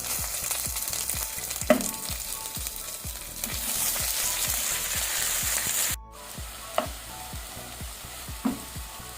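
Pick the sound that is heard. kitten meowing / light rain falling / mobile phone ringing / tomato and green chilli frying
tomato and green chilli frying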